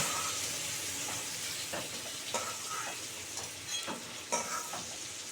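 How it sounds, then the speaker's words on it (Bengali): Prawns fry in oil in a pan, sizzling steadily, with occasional scraping and stirring clicks breaking through the constant hiss. "চিংড়ি মাছগুলো সুন্দর করে ভাজা হয়ে গেল"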